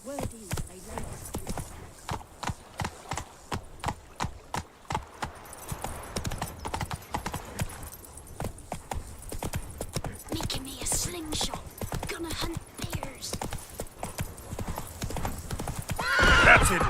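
The horse Roach from The Witcher 3 trots with rhythmic clip-clop hoofbeats, close and steady, with an occasional whinny. Someone speaks calmly over the hooves.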